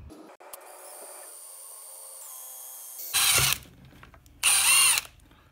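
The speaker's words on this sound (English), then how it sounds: "And now we just need to drill the hole for the LED." A drill with an 8mm bit bores a hole for an LED on a 1/5 scale gas kill switch, two short loud whirring bursts close up after a stretch of quiet mechanical hum.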